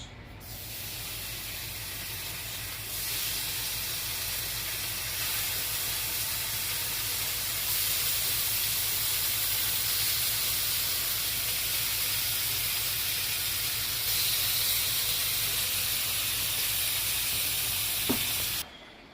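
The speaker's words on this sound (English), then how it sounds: "while my potatoes are boiling, I'm going to fry bacon here." Bacon frying in a pan on the stove, a steady loud sizzle and hiss that holds for the whole stretch with slight swells, alone with no talk.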